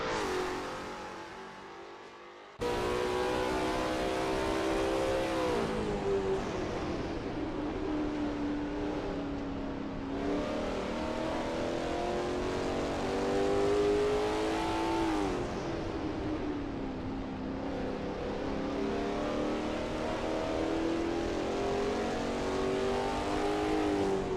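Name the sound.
Lola T70 MkII Spyder race car engine, racing video game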